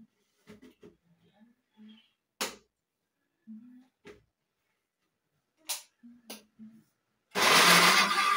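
Tomatoes for beef pilau get whirred in a kitchen blender, which roars loudly to life only at the very end after sparse clicks and handling sounds.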